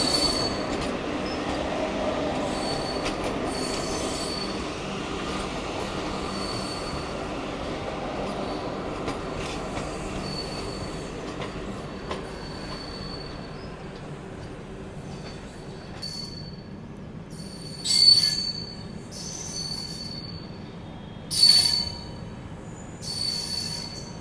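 An LHB-coach passenger train rolls into Gudur Junction with a steady rumble, then its wheels give several sharp, high squeals toward the end as it slows, heard close on the platform.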